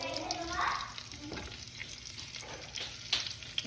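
Onions dropped into a hot pan for a coconut milk rice dish fry with a steady, close sizzle and crackle, with occasional stirring scrapes and brief spits rising above the hiss.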